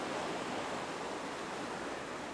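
Ocean waves break on a rocky shore at Ōshima in Fukui, a steady, dense roar of surf and wash that fills the whole stretch, with no talking.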